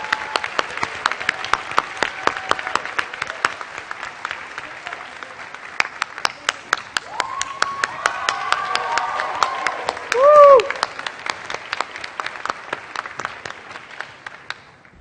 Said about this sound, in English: Please give these wonderful women a round of applause.